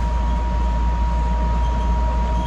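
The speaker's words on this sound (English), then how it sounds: "I got this car, the Air Train, all to myself" Steady, loud rumble and hum from inside an AirTrain airport rail car while riding, a constant drone with a faint tonal whine and no voices.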